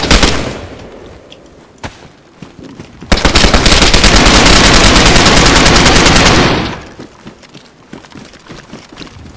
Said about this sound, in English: I hear a lot of shooting going on.